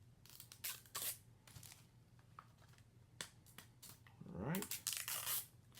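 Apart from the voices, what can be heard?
opening Blu-ray packaging with a sticker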